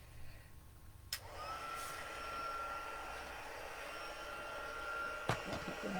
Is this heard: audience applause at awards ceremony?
no